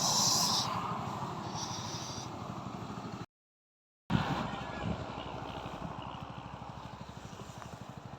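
A motorcycle rides near the Asin Tunnel, its engine a steady, fairly close rumble that cuts out briefly to silence and then resumes with a short burst before settling back into a continuous drone.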